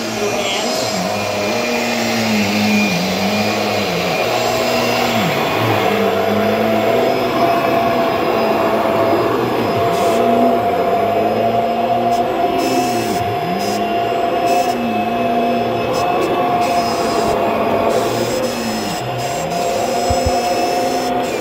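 A Kirby vacuum cleaner runs loud and close while cleaning carpeted stairs, its motor a steady whine with a high hiss and rhythmic swells as the nozzle is pushed back and forth, with brief clicks and bumps.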